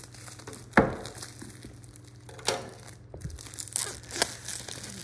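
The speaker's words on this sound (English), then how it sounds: "taking the plastic off here" Plastic wrap being peeled and torn off a boxed Nreal Light AR glasses kit, with a sharp crinkling rip near the start and several softer crackling tears after, all close up and without speech.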